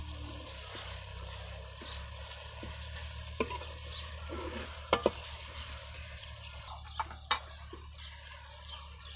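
Green moong pulao sizzling and frying in a pan while being stirred, a steady hiss under occasional sharp metallic clinks of a spoon against the pot, close and moderately quiet, no talking.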